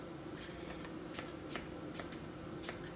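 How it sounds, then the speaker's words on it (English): A knife slicing peeled apples roughly into pieces for apple strudel, a run of soft, irregular cutting taps with crisp edges over a steady background hiss. "we're just going to cut them up fairly rough, just into slices."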